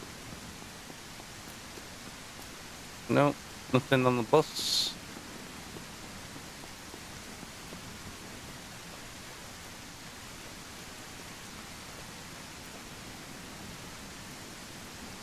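Steady hissing downpour of heavy rain in the SurrounDead video game runs unbroken the whole time, with a man's short spoken remark early on.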